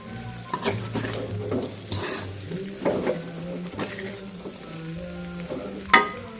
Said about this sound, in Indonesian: Kacang kita aduk dulu.